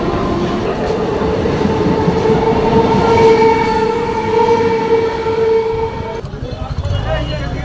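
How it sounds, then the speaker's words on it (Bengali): A train pulls out of Champahati station bound for Sealdah, giving a steady rumble with sustained tonal whine that holds, then drops away near the end, with faint voices in the background. "ট্রেনটা স্টেশন থেকে ছেড়ে দিল শিয়ালদার উদ্দেশ্যে।"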